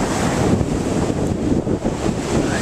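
A loud, constant roar of strong Gulf Coast surf at Gulf Shores and gusting wind buffeting the microphone, with no pauses or voices.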